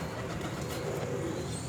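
Pigeons coo softly on a rooftop in Multan, a low murmuring call over steady outdoor background noise, with no talk.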